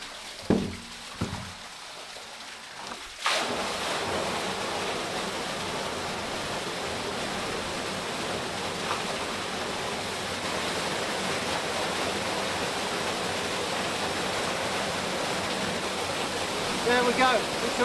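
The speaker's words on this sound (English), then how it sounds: "Now the water's flowing" Lake water rushes out through a drain once a board is lifted from the outlet: a short quiet opening with a few knocks, then a sudden loud, steady roar of flowing water that continues to the end.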